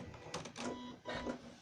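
A sewing machine backstitches the binding on a pot holder, giving a few short whirring motor bursts with brief pauses between them, close and fairly quiet.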